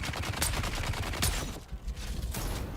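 Rapid gunfire from a firefight in the video game Dune, a dense burst of shots over about two seconds followed by a few scattered, slightly quieter shots.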